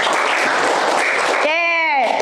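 A classroom of children claps for a classmate: a burst of brisk, fairly loud group clapping lasting about a second and a half, then a voice speaks as the clapping trails off.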